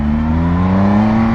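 A 2020 Triumph Speed Triple RS motorcycle engine holds a smooth, loud, close, steady hum at even revs for a little over a second, with no talk.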